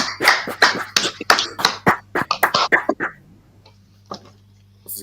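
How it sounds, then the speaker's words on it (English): A small group claps in a brotherhood class, a few rhythmic, sharp close hand claps in quick succession that trail off into quiet with an isolated clap near the end. "Clap it up."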